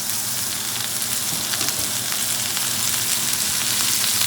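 Unsalted butter sizzles loudly in a hot pan around a veal chop, a dense, even crackle that holds steady from start to finish, close and alone.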